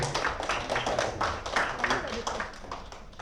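Classroom clapping for group D4 after their micro-teaching presentation, a short patter of hands from a small group of students, with voices talking over it.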